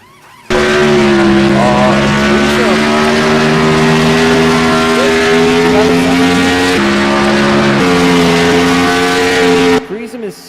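Race car engines in a Roblox NASCAR-style racing game hold a loud, steady droning whine for about nine seconds, with a brief shift in pitch partway through, before cutting off abruptly.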